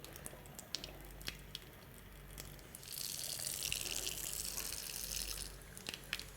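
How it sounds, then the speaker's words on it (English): A tap is turned on for a surgical scrub at a sink, a steady hiss of running water swelling from the third second to the fifth, with scattered drips and soft knocks around it, close by and fairly quiet. "we turn on the tap, not touching the taps with our hands"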